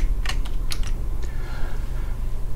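Computer keyboard keys pressed in a few quick, clustered clicks, close and fairly loud over a steady low hum, with no talk.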